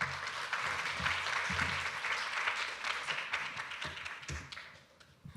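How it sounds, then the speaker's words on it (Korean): An audience at a university student forum presentation applauds with steady, lively clapping that fades toward the end. "박수 쳐주세요."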